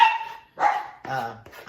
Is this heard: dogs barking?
yes